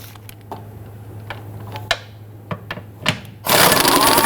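Ratchet and 16mm socket working transmission bracket bolts on a Jeep Grand Cherokee 3.6L V6, heard as scattered sharp clicks and knocks over a low hum, followed by a sudden loud burst of broadband noise at the end.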